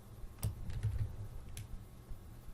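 A computer keyboard key, the Control key, pressed during Photoshop work: a couple of soft, close clicks with a low desk thump, in a quiet room with no talk.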